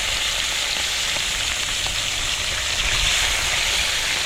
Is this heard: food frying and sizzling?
yes